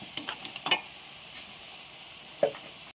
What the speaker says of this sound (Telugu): గుజ్జు వేసిన తర్వాత ఇలా తిప్పుకుందాము ఒకేసారి గంటితో